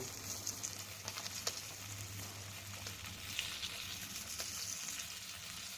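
Marinated, salted fish frying in a hot pan, a steady close sizzle with scattered crackles and pops throughout, no talking.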